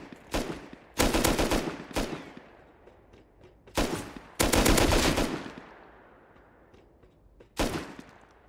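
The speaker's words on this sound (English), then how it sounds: "Where did he shoot me from?" Automatic gunfire in the survival game Rust aboard a cargo ship, several loud close bursts of rapid shots separated by pauses, each trailing off in echo, with a single short burst near the end.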